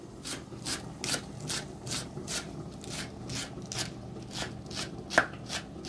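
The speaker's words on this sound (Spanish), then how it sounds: "Solo tratamos de picar que nos quede bien pequeñito." A knife finely mincing onion on a board while making fish sancocho, steady quick chops in an even rhythm, soft and close, with no talk.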